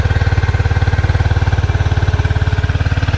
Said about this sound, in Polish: teraz jest zimny silnik, więc wiadomo, że będzie troszkę bardziej